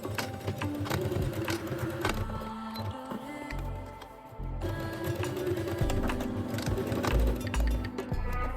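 A sewing machine stitches the short ends of a waistband in steady mechanical runs of rapid needle hum, pausing briefly before starting again, with occasional light clinks and no voices.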